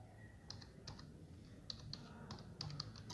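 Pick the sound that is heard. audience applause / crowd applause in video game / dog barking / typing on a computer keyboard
typing on a computer keyboard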